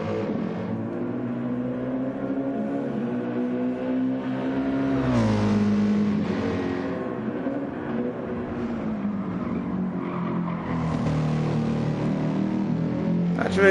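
A race car engine drones steadily at the Nürburgring 24 Hours, then its pitch dips and climbs again as it revs, sustained and fairly close throughout.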